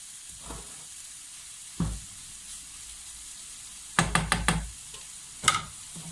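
Cabbage, both fresh and sauerkraut, stews in a pan with a soft continuous sizzle, broken by a few sharp knocks and clattering stirs of a utensil against the pan.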